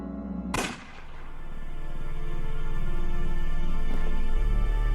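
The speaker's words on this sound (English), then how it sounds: "Was that a gunshot?" A single sharp gunshot rings out in the video game Unavowed, a loud sudden crack followed by a sustained rumbling, droning ambience that swells and holds afterward.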